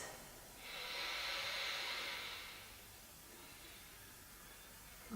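A single slow, deep breath during a yoga session, a soft airy hiss that swells for a couple of seconds and fades in a quiet room, with no talking.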